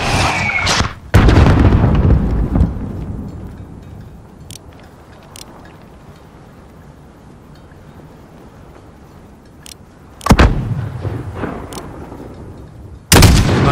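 Sniper rifle fire in Call of Duty: Modern Warfare, aimed at a mortar team: a few sharp, loud booming shots spaced several seconds apart, each followed by a lingering rumble, with no talk.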